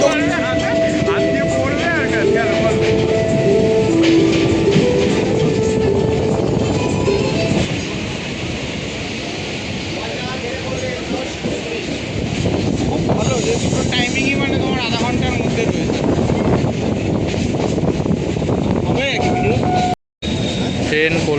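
Inside a moving train heading to Bagbazar in Kolkata, a loud continuous rumble and rattle of the carriage fills the space, with people talking over it and a brief dropout near the end.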